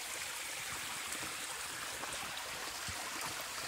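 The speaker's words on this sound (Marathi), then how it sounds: "मस्त छोटा खळखळणारा ओढा मिळालाय." A small babbling stream on a Sahyadri mountain trek between Sinhgad, Rajgad and Torna, a steady close rushing and trickling of water with no voices.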